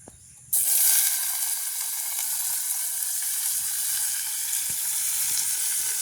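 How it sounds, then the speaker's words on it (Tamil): A sudden loud sizzle as onions and chillies hit hot oil, then a steady crackling hiss of frying that continues close up without talking. "நாங்கள் இப்போ வெங்காயம் மிளகாய் போடுவோம்."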